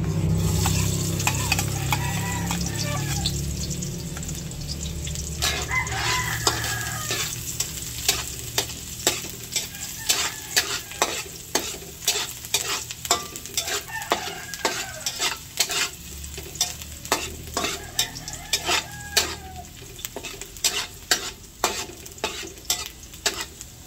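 Chicken and spices sizzle in a hot pan for pancit bihon while a utensil scrapes and stirs in quick repeated strokes, close and busy throughout.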